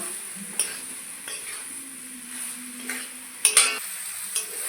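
Fried potato and soybean are stirred into cooked masala for soybean curry, a spoon scraping and clinking against the pan in scattered close taps over a soft steady sizzle.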